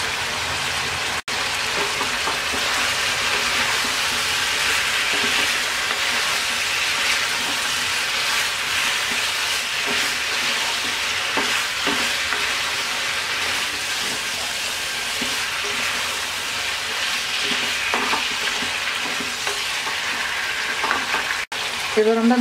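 Brinjal, tomato, green chillies and drumsticks sauté in a pan over medium heat, giving a steady, dense sizzle with occasional stirring scrapes that runs unbroken for the whole stretch, with no one talking.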